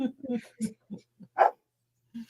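A dog gives a few short, sharp barks in quick bursts with brief gaps, close by, mixed with some vocal sounds.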